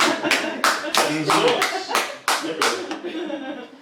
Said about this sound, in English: not a lot of laughs, but the claps. I'll take the claps.